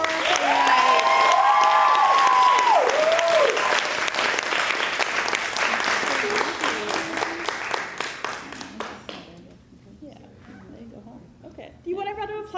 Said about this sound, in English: One more round of applause for our playwright.